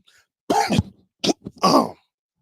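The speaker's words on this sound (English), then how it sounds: "Look at, he got me coughing and everything." A person clears their throat and coughs in a few short, rough bursts up close, with brief pauses between them.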